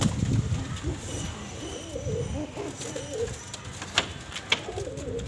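Pigeons coo softly inside a loft among steady background rustle and bustle, with a few faint sharp clicks and knocks and no clear speech.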